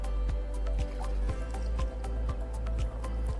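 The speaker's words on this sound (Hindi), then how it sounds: "एक में पहले मैं ब्रांडेड बाहर का पानी डालूंगी" Branded packaged water being poured into a glass, heard as a close, steady run of wet drips and splashes, repeated in quick succession with no talking.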